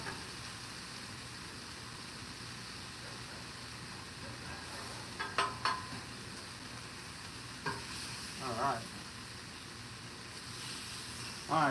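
Food sizzling and frying on a Blackstone griddle, a steady close hiss with a few brief scrapes and clinks of a spatula stirring.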